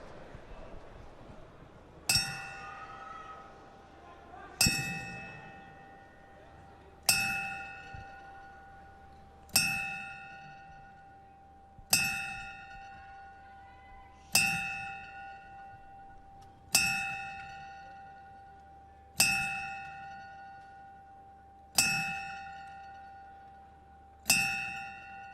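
A bell struck ten times at a boxing event as a ten-bell salute, each clear metallic ding ringing out and decaying before the next, evenly spaced about every two and a half seconds against a quiet hall.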